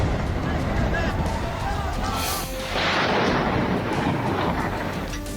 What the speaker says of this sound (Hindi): इजरायली हमले के बाद एक घर के अंदर से रॉकेट में धमाके की आवाज सुनाई दे रही है